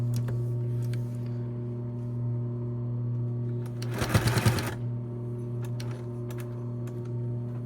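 A sewing machine briefly runs in a quick burst of rapid stitching on fabric-wrapped cotton cord, over a steady motor hum with scattered light clicks before and after.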